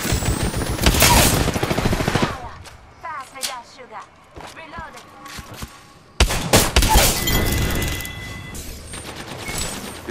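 Gunfire from an Apex Legends match crackles in loud bursts, with a rapid volley at the start, scattered shots through the middle and a dense barrage returning near the end, while players talk over the action.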